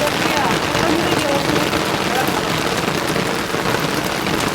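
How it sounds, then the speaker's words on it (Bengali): Steady rain falls continuously in a flooded area, a dense, even hiss of drops on surfaces that stays loud and unbroken throughout. "বৃষ্টি তো ছাড়ে না।"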